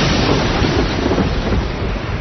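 A continuous roar of a thunderstorm, dense rumbling with rain and wind noise, loud and steady throughout with no breaks.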